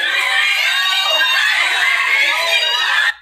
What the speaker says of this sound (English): Why is everyone screaming outside?